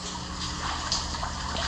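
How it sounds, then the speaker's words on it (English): Water pumped into a fish tank during a test fill in a home fish room, heard as a continuous close rushing, gushing wash with no break. "I'm just pumping water in it to test it now"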